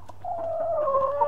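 A backyard chicken clucks close by, giving one drawn-out, wavering cluck over faint background noise.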